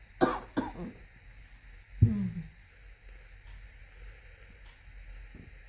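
A few sharp coughs near the start, then one heavier cough or throat-clear around two seconds, close to the mic with light wind noise outdoors between.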